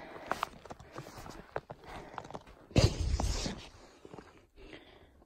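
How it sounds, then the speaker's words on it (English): Crunching footsteps through fresh morning snow on a mountain trail near Clingman's Dome, a few steady close steps with a louder rustle midway, no talking. "First footsteps in the snow this morning."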